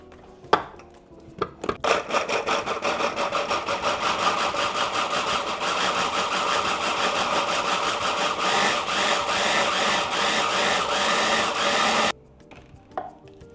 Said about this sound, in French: On va fermer, mais on va encore mixer.